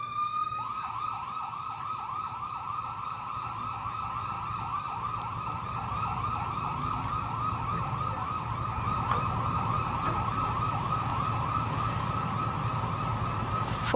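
An ambulance siren wails in steady, repeating up-and-down sweeps for the whole stretch, loud and continuous over a low rumble of traffic.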